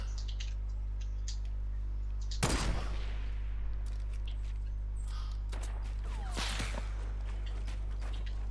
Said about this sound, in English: Why are you shooting at me, bruv?